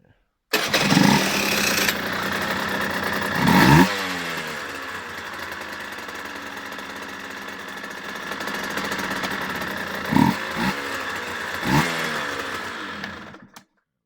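A motorcycle engine turning over and catching, then running steadily close by for about twelve seconds with a couple of louder revs, before cutting off abruptly.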